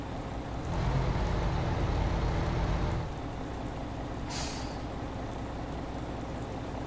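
Truck braking in Euro Truck Simulator 2, a low rumbling brake drone for a few seconds over steady road noise, then a short hiss of released air, moderately loud and close.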